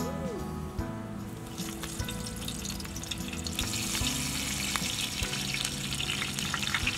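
Curry leaves crackle and sizzle in hot oil outdoors at a Canadian cooking spot, a steady, dense frying hiss that lasts the whole time with faint clinks and scraping of a utensil in the pan.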